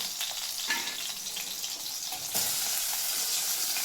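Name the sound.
green chillies frying in a pan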